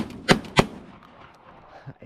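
Two sharp, loud shotgun blasts about a third of a second apart during a partridge and hare hunt outdoors, followed by quiet field ambience.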